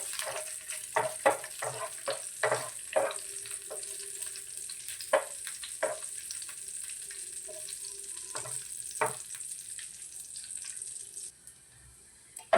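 Cashews and raisins roasting in ghee sizzle and crackle close by, with repeated stirring knocks and scrapes in an uneven rhythm over a thin steady hiss that cuts off near the end.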